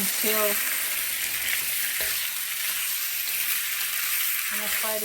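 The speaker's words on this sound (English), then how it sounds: "Add the shrimp. It's very hot. Add the shrimp. Mix. I'm gonna fry this" Shrimp fry in a very hot pan for lo mein with a loud, continuous hiss and crackle heard close, broken by a few short scraping clinks of stirring.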